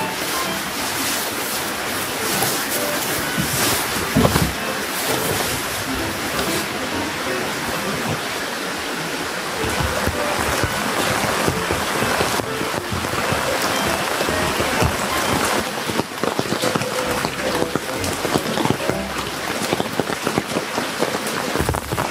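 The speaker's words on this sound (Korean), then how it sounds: "비는 계속 오네요." Steady rain drums on a camping tent overnight, a dense continuous patter heard from inside that stays loud and even throughout with no voices.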